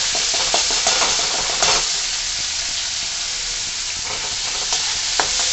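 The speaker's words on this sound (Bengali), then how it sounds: "তেলটা গরম হয়ে গেছে এবার ভেজিটেবলটা দিয়ে দিলাম" Vegetables hit hot oil in a wok for chow mein, producing a loud, dense, continuous sizzle with occasional scraping stirs, close to the pan.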